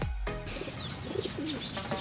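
Two pigeons coo softly at close range with a few thin chirps in between, low and muffled throughout.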